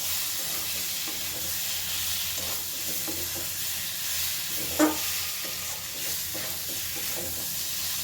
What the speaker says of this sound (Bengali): এবারে আলুর সাথেও মশলাটা ভালো করে মিশিয়ে নেব।